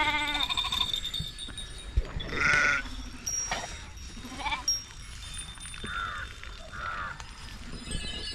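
Sacred sheep at the Balumama palkhi camp bleat several times at moderate distance, scattered calls over a busy outdoor murmur with occasional crow caws.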